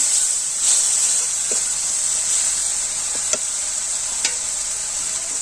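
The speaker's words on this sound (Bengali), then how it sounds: "এখন ভালো করে মশলাটা কষিয়ে নিব" Spices with cardamom, chili and cinnamon fry in a pan for village-style chola muri, giving a loud, constant sizzling hiss throughout, broken by a few faint scrapes and taps of stirring.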